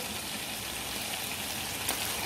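Beef ribs frying in a red sauce over high heat give a steady, loud, even sizzle that runs throughout with no talking.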